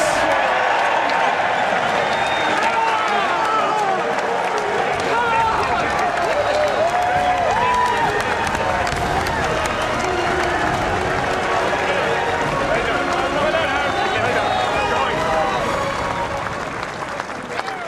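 Large racecourse crowd at Cheltenham cheering and applauding as Champion Hurdle winner Lossiemouth returns with jockey Paul Townend, a dense, sustained roar of clapping and shouts throughout, with voices mixed into the din.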